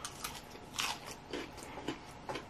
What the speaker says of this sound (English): Crunching on this salad.